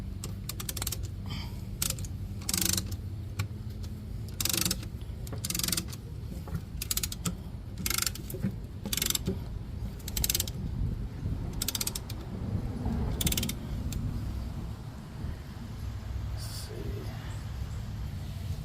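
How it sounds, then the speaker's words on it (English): Front brake caliper pistons on a 2001 Ford F-150 4x4 being compressed with a tool, giving repeated sharp ratcheting clicks in irregular bursts over a low mechanical rumble, close and fairly loud. "We're going to go ahead and compress this caliper in."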